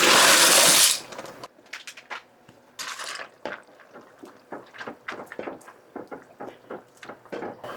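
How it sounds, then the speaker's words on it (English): Dry penne pasta poured into a pot of boiling water: a loud rush of hard pieces for about a second, followed by scattered clicks and rattling as they settle and get stirred. "go ahead and add the pound of pasta."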